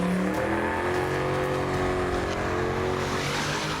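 A car doing a burnout on a street, its engine roaring loud and continuous at high revs with tyre noise mixed in throughout, and no voices.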